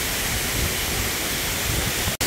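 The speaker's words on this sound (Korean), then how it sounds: "이렇게 해서 이제 폭포는 떨어지는데 저 사이 크랙 사이로 해서 폭포가 이제 저 위로 떨어지는데요" Suok Waterfall, about 20 m high, drops through a rock crack onto a rock ledge, giving a loud, steady roaring rush of water that holds unbroken to the end, with no voices.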